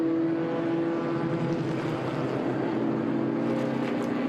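A Formula Atlantic race car runs on the Sebring circuit during an SVRA vintage race, its engine a loud, steady drone held close for a few seconds with no one talking.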